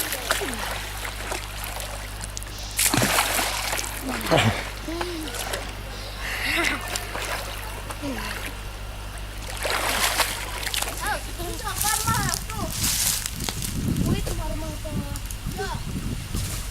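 Children swim in the water and splash near dugout canoes in a tropical village river, making irregular splashes and sloshing over steady water noise while someone narrates throughout.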